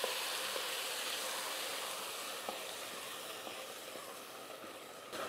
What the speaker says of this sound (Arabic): ودروك نزيد عليها الماء، انا راني وجدت الماء غليان، راح نزيدو عليها مباشره